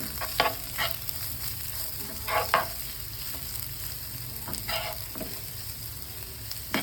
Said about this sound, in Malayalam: ഉള്ളി ബ്രൗൺ നിറമായി കഴിഞ്ഞാൽ മുളകിട്ട് കൊടുക്കുക പിന്നെ ഇഞ്ചി കറിവേപ്പില ഇതെല്ലാം ഇട്ട് ഒന്നും നന്നായി യോജിപ്പിക്കുക